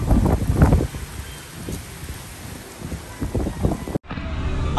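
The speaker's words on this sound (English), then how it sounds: "With Blizzard Beach reopening, it is windy" Gusty wind buffets the microphone outdoors at a water park, broadband rumbling swelling and easing throughout, briefly cutting out near the end before resuming.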